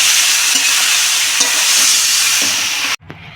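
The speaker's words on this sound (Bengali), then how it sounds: "এবার নুন দিয়ে ভালো করে ভেজে নেব।" Mixed pasta fries with salt in a hot pan, a loud continuous sizzle with faint scraping stirs, cutting off abruptly near the end.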